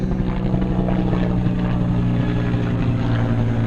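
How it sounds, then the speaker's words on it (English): Steady helicopter rotor drone in a park, loud and continuous with a low throbbing hum and no pauses, as if the aircraft hovers or passes close overhead. "There's a helicopter overhead."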